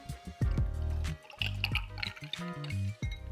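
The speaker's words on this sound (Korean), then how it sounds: "우유를 200g 부어주겠습니다." Milk is poured into a cup of ice, giving close, gurgling liquid sounds with ice clinking and shifting in bursts as the cup fills.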